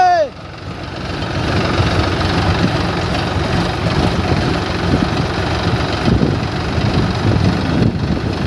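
Sonalika 35 RX and Swaraj 735 FE tractors strain against each other in a tug-of-war, their engines droning steadily and loudly at low pitch throughout, with wind buffeting the microphone.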